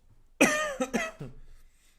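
A single harsh cough followed by a couple of quick, weaker hacks, close and fairly loud, then quiet.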